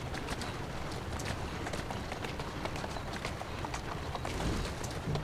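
A horse's hooves clatter in quick, continuous footfalls while it runs through the streets of Victorian London in Assassin's Creed Syndicate, at moderate loudness and without pause.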